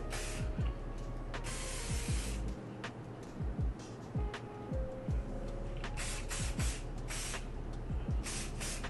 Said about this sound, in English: Spray with some hairspray.